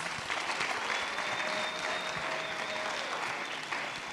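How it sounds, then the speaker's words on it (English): Steady, dense applause from an audience at a youth weekend event, welcoming a panelist onstage; continuous crowd clapping at even strength throughout with no speech. "Round of applause."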